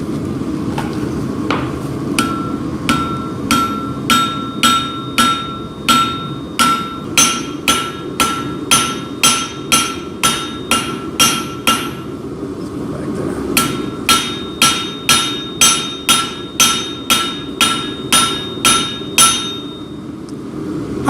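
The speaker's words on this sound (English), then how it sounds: "go right over to the anvil and start hammering away" A hammer strikes hot metal on an anvil at an urban forge in steady, ringing blows, near and loud, two long runs of evenly spaced strikes split by a short pause.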